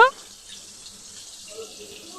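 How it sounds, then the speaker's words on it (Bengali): Water poured from a tap or vessel into a paste of turmeric and ground spices for a katla fish curry, a brief splash at the very start followed by a faint trickle and quiet kitchen background. "জল দিয়ে আমি এটা মিশিয়ে নিচ্ছি"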